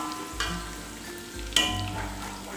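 Garlic frying in hot oil toward light golden, a soft steady sizzle with a couple of stirring knocks, faint and close, with no voices.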